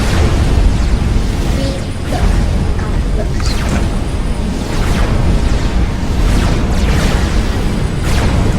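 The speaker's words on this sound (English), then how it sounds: "Miasma shell. That's the name of what he's shooting." Miasma shells exploding in a video game, a run of repeated muffled booms and bursts over a loud, busy rumbling bed, several blasts a second or two apart.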